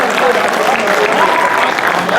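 Steady broadband clapping from a poetry recital audience in New Delhi fills the whole stretch, loud and continuous, with faint voices mixed in.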